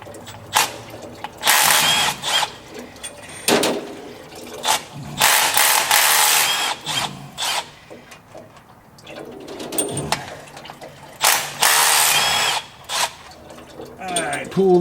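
A hand ratchet fitted with a 15 millimeter socket clicks in repeated close bursts while working on an Allison automatic transmission in a dump truck, with pauses and shop noise between strokes.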